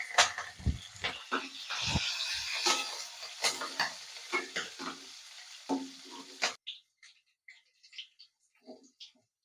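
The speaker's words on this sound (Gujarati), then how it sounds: "રાઈ ગરમ થઈ ગઈ, લીમડીના પત્તા એડ કરીશું." Curry leaves and chopped green chillies crackle and sizzle in hot oil with mustard seeds for a khaman tempering, loud bursts of popping under a voice, then fading to sparse faint spits.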